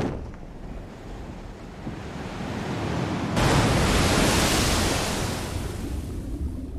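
Ocean waves wash and roll in the Elden Ring video game, a steady surf roar that swells louder halfway through and stays full, with no voices.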